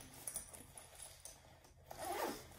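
Smooth zipper on a Lug Ranger bag being drawn open or shut, a quiet close-up zip with small clicks and scrapes of the pull, ending in one longer, brighter run of the slider.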